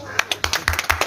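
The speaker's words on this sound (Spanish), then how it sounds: "ahora tienen que aplaudir cuando la bajen" A small group claps in short, uneven bursts at an indoor gathering, the sharp hand claps close and loud, with voices speaking over them.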